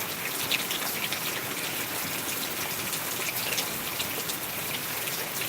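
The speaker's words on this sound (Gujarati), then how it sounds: "વરસાદ ચાલુ છે" Steady rain falls on a hard surface nearby in Deesa taluka, Gujarat, a continuous hiss with scattered drips and splashes.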